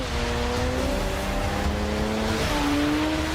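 A Jaguar F-Type sports car drives and accelerates, its engine note rising in steady harmonic sweeps over a constant road and wind roar, loud and close throughout with no talking.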